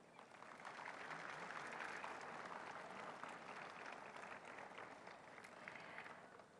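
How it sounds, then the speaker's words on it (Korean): A large crowd of about a thousand guests applauds at the 72nd Police Day ceremony in Gwanghwamun Square, Seoul: sustained, even clapping heard from a distance, swelling briefly and then holding steady. "참석하신 모든 분들께 큰 박수 부탁드립니다"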